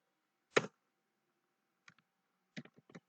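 Keys tapped on a computer keyboard while entering a command in a command prompt, a quiet, close click or two followed by a pause, then short clusters of light key presses, with no talking.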